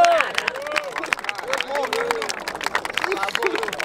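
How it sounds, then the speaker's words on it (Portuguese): Crowd at a Brazilian rap battle in Barueri, SP, clapping and cheering in a dense, steady burst, with shouted voices and whoops over the applause throughout. "Palmas pra essa batalha!"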